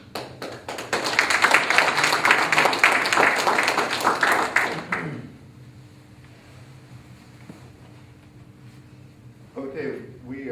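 Applause from an audience at a police department community meeting, a burst of dense clapping for about five seconds that then stops abruptly, leaving quiet room noise.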